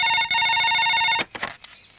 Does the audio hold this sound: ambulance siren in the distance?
no